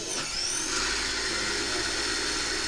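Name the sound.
sidewinder slot car motor running at 10 volts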